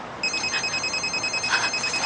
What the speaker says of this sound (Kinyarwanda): telefone irasoma